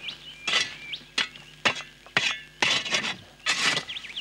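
Hot sand is piled back over damper bread in a ground oven in the Australian desert, coming as a series of gritty scraping and pouring bursts, roughly seven strokes in uneven rhythm, close and fairly loud.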